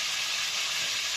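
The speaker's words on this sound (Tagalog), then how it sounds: "Prito po natin konti-konti lang po muna." Pieces of pork or chicken sizzle as they fry in a pan, a steady bright hiss that stays even and fairly quiet throughout, with no speech.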